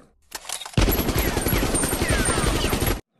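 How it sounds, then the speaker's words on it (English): Animated gunfire in a Plotagon police standoff bursts in suddenly as a loud, continuous volley of shots lasting about two seconds, then cuts off abruptly to silence. "Open fire."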